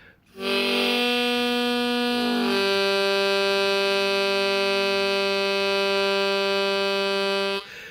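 Low harmonica tone held steadily after a brief lower start, a single sustained reedy chord ending abruptly.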